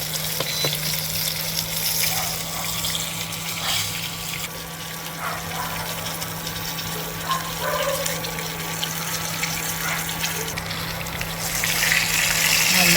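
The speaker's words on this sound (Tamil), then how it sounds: "நல்லா பொறுமையாக மெல்லிய நெருப்பில் பொறியுங்க." Fish sizzling steadily in hot oil over a low flame, a continuous soft crackle and hiss close by with a low steady hum beneath and no voices.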